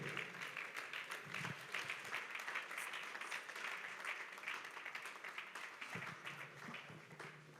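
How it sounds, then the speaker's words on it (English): Sustained clapping from a forum audience welcoming a former Nigerian state governor to the stage, dense and continuous, quietly recorded, with a few heavier thumps near the end. "Please give a round of applause for His Excellency, Governor Olusegun Mimiko"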